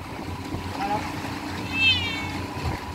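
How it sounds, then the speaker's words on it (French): A cat meows a couple of times, short rising cries over a steady background hum and some faint voices. "Le chant du chat."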